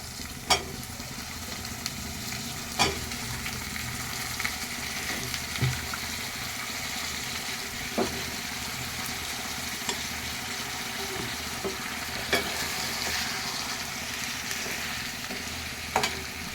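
Cut brinjal pieces tip into boiling chana dal for an Andhra-style curry, bringing a steady close sizzle and bubble marked by a few sharp clinks and stirring knocks, with no one speaking.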